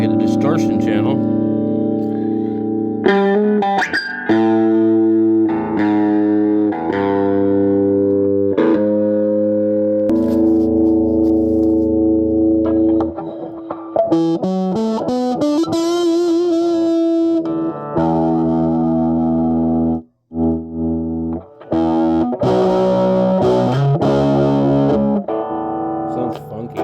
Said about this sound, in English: we get the distortion channel.